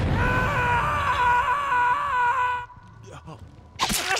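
A survivor screams in Dead by Daylight Mobile, a sustained wavering cry of about two and a half seconds, followed by short scuffling noises and a brief sharp burst.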